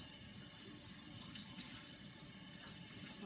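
Running water from a sink tap splashes steadily while sticky dough is washed off hands, a continuous broadband hiss and patter close by with no talk over it.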